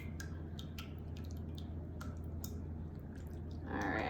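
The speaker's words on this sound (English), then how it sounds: "And then we're just going to whisk this together." Ingredients being whisked together in a bowl in a home kitchen, a quick run of light, regular ticking and clinking strokes that stays soft against a low background hum.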